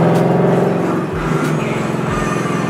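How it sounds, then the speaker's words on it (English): Exhaust of a 2018 Mustang GT with its mid muffler deleted, loud and close, a rumbling engine note broken by a couple of sharp low backfire pops. "Backfiring. I'm gonna lower the window down so you guys can hear it."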